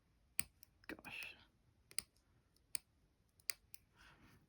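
Scissors snip through fabric for a hare table runner in a few quiet, separate clicking cuts with short gaps between them.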